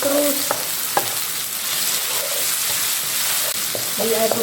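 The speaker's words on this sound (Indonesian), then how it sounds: "Sekarang kita masukkan cabenya. Sambil diaduk" Chilies frying and being stirred in a pan for Manado-style fried skipjack tuna, a loud steady sizzle with occasional spatula clicks and scrapes, plus brief faint tonal sounds near the start and end.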